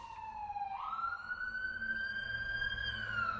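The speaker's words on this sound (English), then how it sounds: "hear a siren." Emergency vehicle siren wailing steadily with a rising pitch sweep near the start, mid-distance outdoors over low traffic rumble, continuous for the whole stretch.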